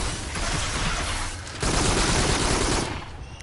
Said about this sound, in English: I'm firing on automatic, essentially.